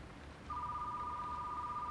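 A telephone rings in the video game Retro Rewind, a steady electronic tone that starts suddenly and holds without a break over a faint room hum.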